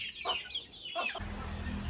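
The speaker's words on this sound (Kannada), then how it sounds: "ಬಾಗಿಲು ತೆಗೆದ ತಕ್ಷಣ ಓಡಿ ಬರ್ತವೆ ಕೋಳಿಗಳು" Backyard chickens cluck close by as they hurry over when a door opens, a few short clucks and squawks followed by a steady low rustling background.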